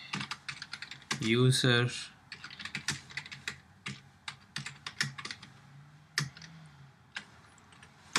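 Fingers type code on a computer keyboard in a rapid, uneven run of sharp, close key clicks, with a voice speaking briefly over the typing.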